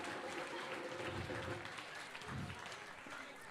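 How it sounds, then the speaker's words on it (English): Audience applause for the winning team at an International Easter Puja music program in Australia, a broad continuous crowd clapping that sounds somewhat distant and faint, with a murmur of voices underneath. "a big congratulations and round of applause to Ananda"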